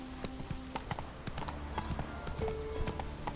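A horse's hooves clip-clop at a steady walking rhythm in the video game The Witcher 3, close and clear over a soft ambient background with no talk.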